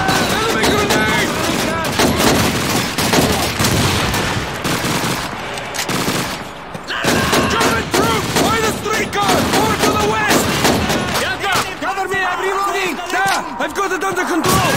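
Dense gunfire rattles through a Call of Duty street battle in Stalingrad: bursts of machine-gun fire and single shots, loud and near, mixed with shouted commands and battlefield noise.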